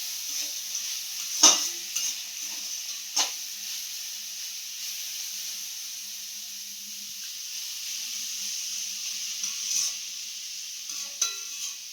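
Red amaranth greens with peas and nuts stir-frying in a pan, a soft continuous sizzle broken by a few sharp scraping stirs and clicks, quiet throughout with no talking.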